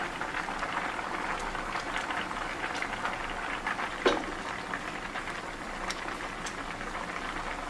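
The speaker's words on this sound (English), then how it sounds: "So I'm just going to let it boil for like 3 minutes" Catfish pepper soup boils in a pot with a steady, quiet bubbling hiss, close by and without any talking.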